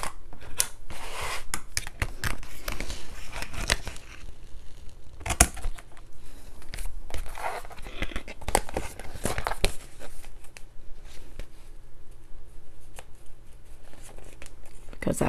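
Paper cover of a handmade Christmas junk journal being trimmed, with a run of crisp snips, paper rustling and crinkling throughout, close and fairly loud, one sharper cut standing out midway.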